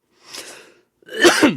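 A single person sneezes, a soft breathy intake followed by a sharp, loud burst close by, with no other sound around it.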